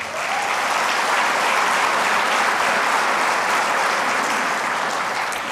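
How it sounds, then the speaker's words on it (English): Audience at a bowling convention's annual meeting breaks into applause, a loud, dense and even wash of clapping from a large crowd that carries on for several seconds. "Let's show a round of applause for the PWBA brands of registered products."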